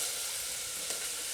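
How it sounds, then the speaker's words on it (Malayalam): A large onion sautéing in about a tablespoon of coconut oil inside a pressure cooker gives a steady, close sizzle and crackle of frying, with no talking. "ഉള്ളി മാത്രമാണ് നമുക്കൊന്ന് വഴറ്റിയെടുക്കേണ്ട ആവശ്യമുള്ളൂ കേട്ടോ"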